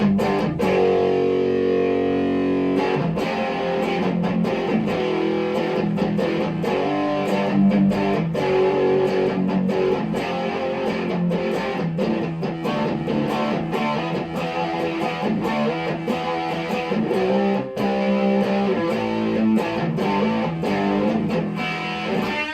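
Electric guitar played through a modded Ibanez TSA15H amp with heavy metal distortion, chugging palm-muted riffs and sustained chords in a steady, driving rhythm, loud and close with no talk.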